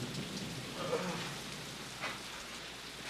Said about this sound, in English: We can't ride him out till the rain stops, Floyd.